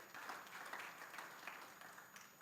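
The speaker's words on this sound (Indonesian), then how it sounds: "Tepuk tangan bagi Tuhan Yesus." Faint, distant applause from a congregation during a Sunday church service, a soft continuous patter of clapping with no other sound.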